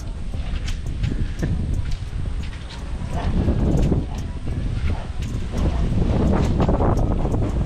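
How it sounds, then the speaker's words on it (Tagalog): Gusty wind buffets the microphone in rough, rumbling bursts, with faint scattered clicks and knocks in the background. "Mahangin-hangin po."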